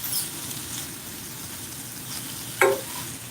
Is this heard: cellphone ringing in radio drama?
no